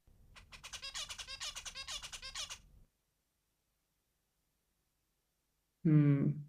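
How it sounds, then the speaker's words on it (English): Rapid, buzzy chirping birdsong repeated in a quick rhythmic string for a couple of seconds, then silence and a brief nasal call at the end. "this is what a zebrafinch song sounds like"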